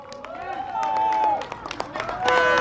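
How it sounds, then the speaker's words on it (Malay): Audience applause at an outdoor political rally in Seputeh, scattered claps and cheering from a crowd mixed with babble, while a voice talks over it. "Berikan tepukan kepada beliau."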